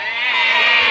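A person imitates a goat with one drawn-out, wavering bleat, loud and close, with no other sounds around it.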